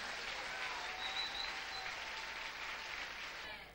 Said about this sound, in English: give a living clap of praise to Jesus Christ